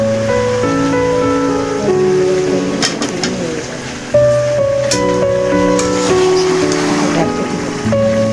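Potatoes are added to beef curry in a hot pan, and a loud, steady hissing sizzle fills the clip under background music, with a brief dip and then a renewed surge.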